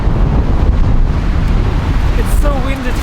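Strong wind buffets a microphone outdoors in the snow up north beside an icy bath, a loud continuous roaring rumble with a faint voice near the end.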